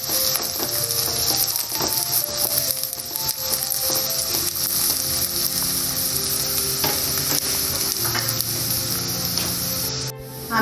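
Soya chunks fry in a pan for pulao, a steady loud sizzle with stirring scrapes and clicks of a utensil against the pan throughout, close by.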